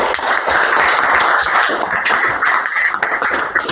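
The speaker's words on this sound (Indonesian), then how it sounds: "Tepuk tangan dulu untuk Widi." Clapping from a lecture audience at a university teaching certification session, a steady dense patter of many hands lasting the whole stretch at moderate loudness with no talk over it.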